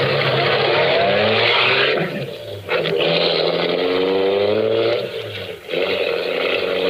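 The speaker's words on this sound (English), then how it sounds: "I drove back to the garage, had Dan fill the tank" A radio-drama car effect of an engine running steadily, loud and close, rising and shifting through gears with two brief dips as it pulls away, with no voices.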